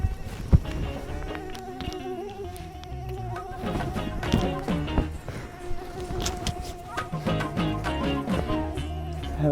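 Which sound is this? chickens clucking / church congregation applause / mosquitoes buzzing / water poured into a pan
mosquitoes buzzing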